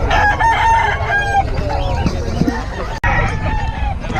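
Roosters crow loudly and close at a market in Bocaue, several calls overlapping amid clucking fowl and steady background noise.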